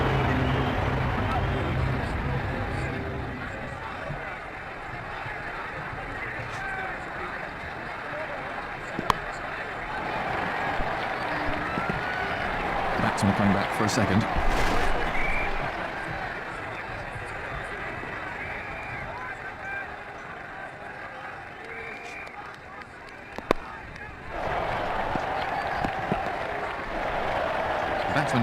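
In the Ashes Cricket 2009 video game, a stadium crowd roars and claps after a four, a broad, continuous cheer that swells and fades in waves while a commentator talks over it.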